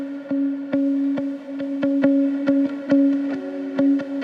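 An ambient electric guitar recording with no EQ applied, a repeating picked pattern of sharp plucked notes over a sustained low ringing tone, clear and close without any voices.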